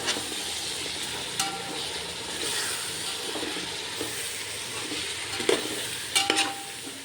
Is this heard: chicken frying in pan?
yes